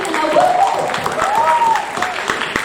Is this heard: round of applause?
yes